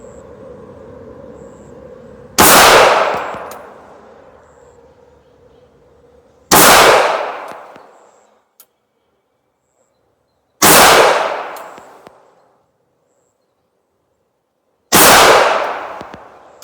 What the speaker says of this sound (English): I'm going to shoot these at the upper right.